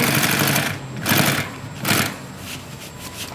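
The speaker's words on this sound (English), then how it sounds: "Now it's gonna sew all of them in one shot." An AtlasUSA AT201618 single needle walking foot industrial sewing machine stitching through a thick stack of material in one pass, a loud rapid mechanical chatter surging in several bursts with brief slowdowns between.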